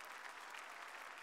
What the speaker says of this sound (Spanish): Demos a Jesucristo un precioso aplauso.